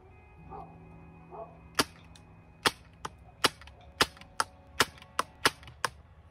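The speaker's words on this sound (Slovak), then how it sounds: "Takže je tu manuálna Airsoft replika, takže pri každom výstrele ho musíme samostatne natiahnuť a idem sa skúsiť trafiť." A manual spring-powered airsoft replica, a budget 39-euro model cocked by hand before each shot, fires about ten sharp, close snapping shots, spaced roughly half a second apart, with no talking.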